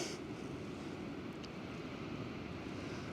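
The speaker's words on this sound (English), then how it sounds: "Can still hear the waves." Faint, continuous rush of ocean surf in the distance, a soft steady wash with a light breeze and no voices.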